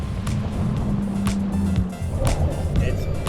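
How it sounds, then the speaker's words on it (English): Jet ski engine running on the water off Hawaii while checking surf conditions: a steady close motor drone with slapping water and wind, with a voice talking over it. "Pamai takes me for a spin on the jet ski to check out the conditions up close"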